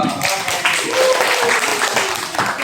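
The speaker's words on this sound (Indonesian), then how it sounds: "tepuk tangan" Students in a classroom break into applause for a classmate who answered a quiz question first, a steady, dense burst of clapping lasting a few seconds with some voices mixed in.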